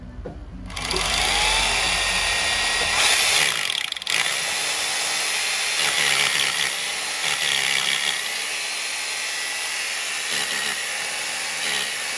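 A drill bores a 3/16-inch hole into concrete with a loud, steady whining grind that runs almost unbroken, dipping briefly once and continuing close by.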